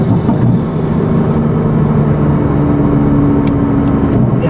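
Engine of a BMW M4 or Toyota Supra pulling with its intake noise audible. It is a loud, close and steady droning hum that stays even throughout, with no voices.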